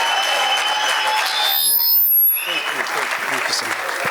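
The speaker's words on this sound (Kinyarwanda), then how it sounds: "reka tumwongera amashyi cyane Michael" An audience applauds loudly at a Rwandan comedy show. The clapping mixes with whistles and sustained tones, and voices can be heard in the crowd.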